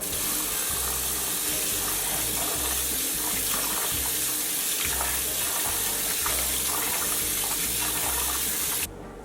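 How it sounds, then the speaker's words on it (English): Rice rinsed under a running kitchen tap, a steady rush of water with rhythmic sloshing and swirling as the grains are washed, cutting off abruptly at the end. "I am washing my rice today."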